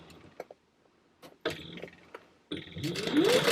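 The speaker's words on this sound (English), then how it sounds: "I have a 3-stitch length, by the way, to sew all of this together" A sewing machine stitching fabric panels together for a handmade bag at a 3 stitch length, short mechanical runs starting and stopping between quiet gaps, ending in a longer louder burst.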